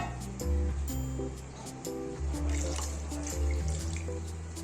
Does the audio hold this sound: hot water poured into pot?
yes